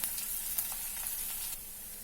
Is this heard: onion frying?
yes